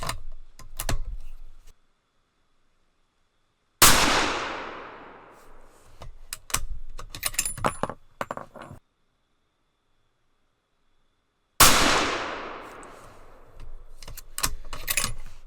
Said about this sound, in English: 2 more shots.